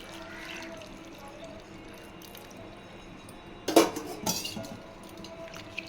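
A spoon stirring tamarind pulusu in a metal pot, faint wet swishing followed by a few sharp clinks of the spoon against the pot rim, close up with no talking.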